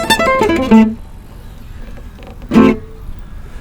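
A gypsy jazz guitar rips through a fast picked phrase of consecutive downstrokes, a quick burst of bright notes ending in a ringing tone. A pause follows, then another short strummed burst, all played close.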